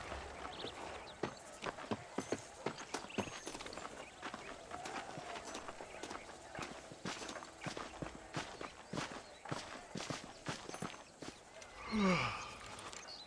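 Horse hooves clip-clop at a steady walking pace in a Western video game, a long run of distinct close hoof strikes, fairly quiet, with a brief swell of other sound near the end.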